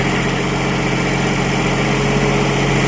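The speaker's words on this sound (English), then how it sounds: "You can even hear the generator stop on its load a little bit." Terex RL4 light tower generator engine running under load: a loud, constant close-up drone with a steady low hum and no breaks.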